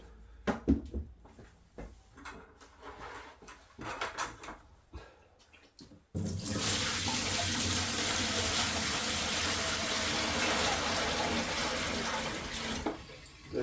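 Bucket of koi pond water poured down a sink: scattered clunks and splashes at first, then a sudden loud, steady gush of water draining for several seconds, close and continuous.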